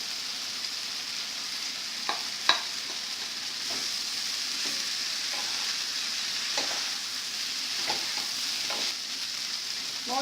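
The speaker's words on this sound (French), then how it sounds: "Je laisse les pommes de terre roussir un peu" New potatoes browning in a pan give off a soft, steady sizzle, with occasional light stirring scrapes and a small clink, close by and with no talking.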